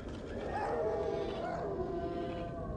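A dog creature in the video game Clive Barker's Undying snarls and growls with wavering, drawn-out whines over a steady low rumble of game ambience.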